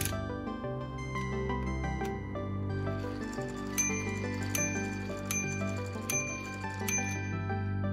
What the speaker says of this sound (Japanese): 5時の鐘を鳴らしました。